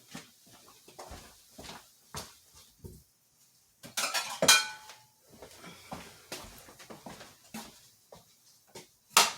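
Bowls and utensils clinking and clattering in a home kitchen while making carnivore shrimp and grits, a scatter of close, sharp knocks and one bright ringing clank midway, with quiet gaps between.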